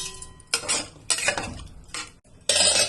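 A spoon stirs soaked rice and water in a metal pot, giving a few separate bursts of scraping and clinking separated by short pauses, close and fairly loud with no talking.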